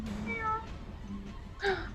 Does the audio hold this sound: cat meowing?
yes